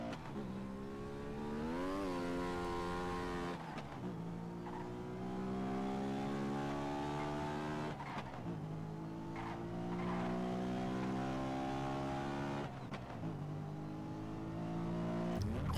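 A car driven in the video game SA:MP, engine whining and revving through repeated gear shifts with rising and falling pitch, a steady loud drone with tire noise and no talk.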